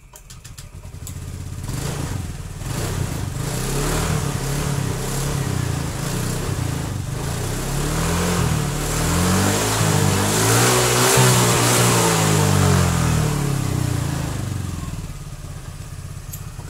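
A motorcycle engine starts up and idles steadily, its rumbling exhaust note swelling slightly midway before settling, with no voices over it; the exhaust has just had a stripped bolt thread repaired and no longer leaks.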